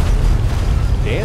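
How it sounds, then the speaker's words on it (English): A deep, rumbling boom of an explosion in the video game Fallout 3 dominates this short burst, loud and heavy in the low end, with a brief higher whoosh near the end. "Whole lots of explosions there."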